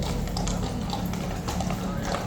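Horse Guards horses' hooves clip-clop in a steady rhythm on hard ground, blended into dense crowd noise and voices talking throughout.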